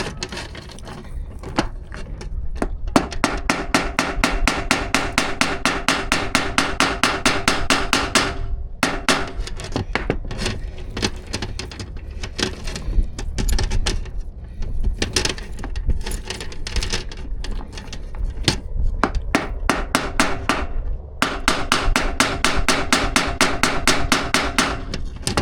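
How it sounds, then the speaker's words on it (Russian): Rapid, steady metal hammer blows ring out in long bursts, dense rhythmic tapping flattening the pins of a chain connecting link with brief pauses between runs. "вот эти места нужно молотком раздавить"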